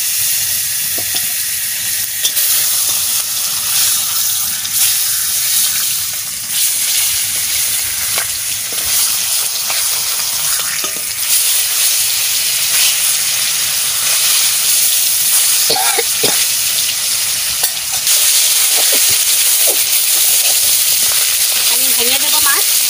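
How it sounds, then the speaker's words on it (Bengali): Fish fries in hot oil with a continuous loud hissing sizzle held steady throughout, close up, with scattered pops and a few utensil knocks. "একটু মাছ ভেজে নেব"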